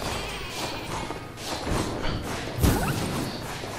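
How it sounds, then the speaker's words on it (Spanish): An explosion in the video game Flockers: a dull thud and crash with a whoosh, peaking sharply near the end over a busy game soundtrack. "Explosión."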